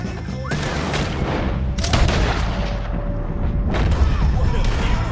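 Heavy gunfire in a Red Dead Redemption 2 shootout against O'Driscoll gang members, with rapid booming shots and cracks layered over continuous battle noise and shouting voices.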